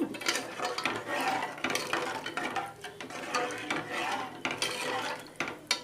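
A spoon stirring dal with turmeric in a cooking pot: busy, close metallic scraping and clinking strokes against the pot in a quick, uneven rhythm, fairly loud and without talk.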